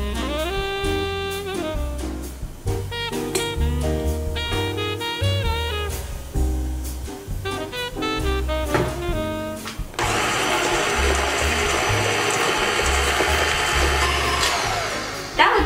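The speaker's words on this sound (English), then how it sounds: "we'll mix the butter and the sugars into the mixer until light and fluffy" An electric stand mixer creams butter and sugar for cookie dough, a steady whirring motor whose pitch shifts as the speed changes, loud and close, with music in the background and no talking.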